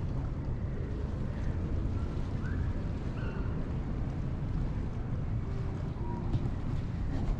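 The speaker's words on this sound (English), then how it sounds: "The ship seems to be just cruising so nicely right now." Oasis of the Seas cruise ship underway on calm open sea, a steady broadband rush of wind and water noise buffeting the microphone throughout, continuous and fairly loud with no distinct events.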